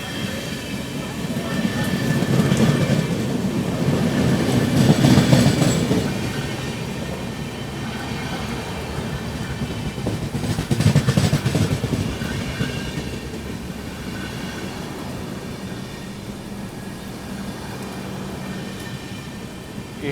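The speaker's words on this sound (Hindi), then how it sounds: "गुवाहाटी नई दिल्ली पूर्वोत्तर संपर्क क्रांति यहाँ पे आगे निकलती हुई।" The Guwahati–New Delhi Purvottar Sampark Kranti express rolls past in heavy rain, a broad rumbling roar with swelling rail noise, heard from inside another moving train.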